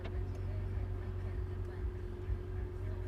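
A Ferrari with about 42,000 miles runs in sport mode, its engine giving a steady, fairly quiet low rumble close by that holds evenly throughout.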